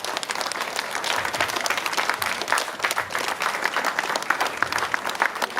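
Applause from mourners at a funeral wake in Douala, a dense, steady wash of many hands clapping for about six seconds at moderate volume, with no voices.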